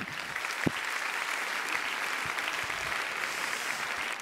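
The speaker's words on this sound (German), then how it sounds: "Sie können klatschen, wenn Sie Lust haben" Steady audience applause at a televised award ceremony, the Felix Burda Award 2019, a dense even wash of many hands clapping throughout, with one sharper clap near the start.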